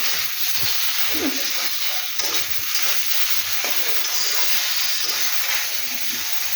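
Okra frying in a pan after turmeric has been stirred in, a steady close hiss and sizzle with occasional light stirring scrapes running throughout, no voices.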